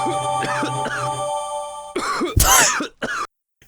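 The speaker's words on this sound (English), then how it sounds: "You just get to hear him having a coughing fit." In The Great Ace Attorney, a waiter breaks into a harsh coughing fit: several close, rasping coughs and throat-clearing bursts, with game music fading beneath and ending in silence.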